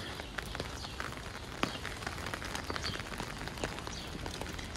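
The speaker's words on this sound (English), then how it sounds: "Oh, is it raining? It is raining." Quiet, steady patter of light rain in New York City with scattered drops tapping on surfaces, no voices.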